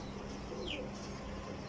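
A desi pigeon coos softly and low, a faint, brief call rising once over quiet background noise.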